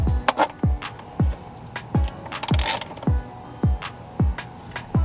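A ratchet snugging a fitting after deleting the purge valve on an LS swap engine: close, loud, evenly spaced ratcheting clicks in quick bursts, about two per second, with no speech.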